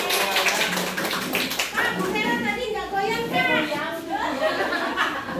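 A group of people clapping hands at a school learning-community session, with children's voices and chatter mixed throughout; the clapping is brisk and uneven, blending with talk and laughter rather than standing alone.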